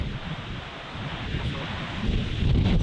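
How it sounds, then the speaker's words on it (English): Steady wind buffets the microphone on an open golf course, a broad rushing noise that swells stronger toward the end, with no voices over it. "I think the wind's also going to push it across the hole."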